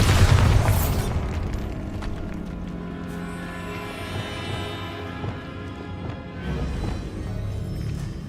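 Bombarda spell explosions in the video game Hogwarts Legacy, with a loud booming burst at the start followed by a rumbling magical crackle and lingering debris sounds.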